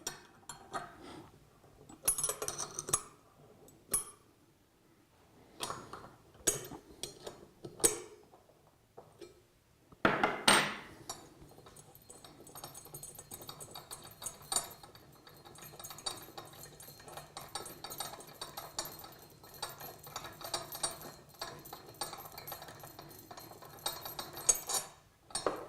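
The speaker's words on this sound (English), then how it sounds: "We have two bolts at the side which need to be undone." Bolts are undone on the side of a Flotronic pump body, giving scattered metallic clinks and tool clatter close by, in irregular bursts followed by a steadier rattling stretch.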